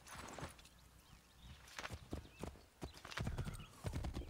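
Hooves clip-clop at a walk and then a gallop, with a horse whinnying, in the video game Assassin's Creed 3, fairly faint in the mix.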